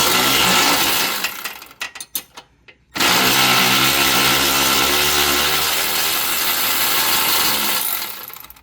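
A Milwaukee M12 power tool loosens a motor mount bolt on a 2006 Nissan Maxima, whirring loudly up close, stopping briefly for a few short bursts, then running steadily before cutting off.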